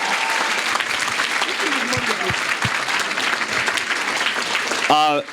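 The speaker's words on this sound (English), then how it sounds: "if we get one more round of applause, thank you, Dr. Carlos and Mr. Zirin, for coming out" A full crowd applauds Dr. John Carlos and Dave Zirin at an event on politics and sports, clapping loud and continuous, with a few voices rising through it and a brief voiced sound near the end.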